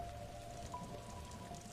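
Steady rain falling around an abandoned tower, a soft continuous hiss of drops with a faint low rumble beneath, distant and quiet with no voices.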